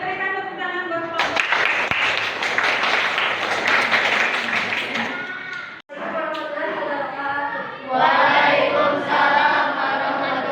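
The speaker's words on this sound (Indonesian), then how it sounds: "silakan berikan tepuk tangan buat kelompok." Students in a classroom applaud a group after it presents a math problem. The clapping bursts in after a second, with children's voices and chatter mixed throughout, then dips briefly before the noisy voices swell again.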